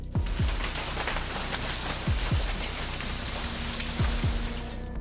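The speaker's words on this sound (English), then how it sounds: "NW Oklahoma City, hailstorm lasted about 15 minutes" Hail hammering down across northwest Oklahoma City during a fifteen-minute storm, a steady loud roar of dense impacts with occasional heavier thuds standing out, continuous and close with no voices.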